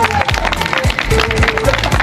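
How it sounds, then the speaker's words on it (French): A group of about ten people clapping together in an amusement park, brisk dense applause close by, with voices mixed in. "Faire applaudir une dizaine de personnes autour."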